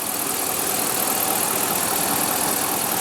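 A 2015 Ram 1500 pickup with a 5.7 L Hemi V8 idles in a steady, even, fairly loud rumble lasting about three seconds, with no voices over it.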